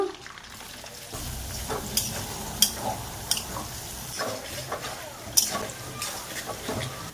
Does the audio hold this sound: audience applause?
no